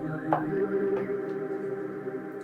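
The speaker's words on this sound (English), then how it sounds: "And the second pads sound like this." A soft synth pad built from sampled human voices sustains a warm, layered chord, with a couple of brief airy swells rising over the drone; fairly quiet and alone.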